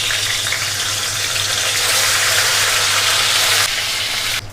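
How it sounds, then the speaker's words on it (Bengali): Hilsa fish pieces slid into hot mustard oil in a kadai fry with a loud, continuous, close sizzle and crackle, easing slightly just before the end. "তেল গরম হয়ে গিয়েছে, এবার আমি মাছগুলো ছেড়ে দিচ্ছি"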